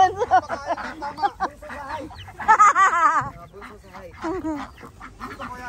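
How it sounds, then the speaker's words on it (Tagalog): Chickens cluck and ducks quack together in a busy, overlapping chorus nearby among goats, with a louder squawk in the middle and voices faintly mixed in. "Ang daming bibi, manok."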